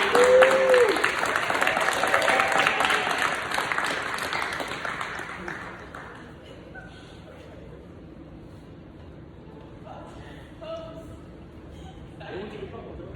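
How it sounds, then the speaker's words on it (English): Audience at a middle school leadership ceremony applauds for student Zai Griggs, a loud, full round of clapping for several seconds that then fades into quieter room sound with a few voices. "Can you guys clap it up for Zai Griggs?"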